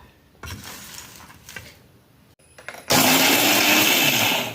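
A kitchen mixer grinder crushing roasted prawn chutney powder ingredients in its jar, with a few clinks and handling knocks first, then a loud, steady whirring roar that fills the final seconds.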